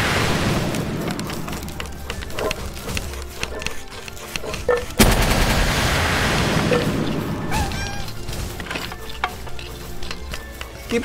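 Dense, loud gunfire rattles through a Palworld video game battle, rapid crackling bursts packed closely together with occasional heavier booms, continuing almost without pause and surging sharply about halfway through.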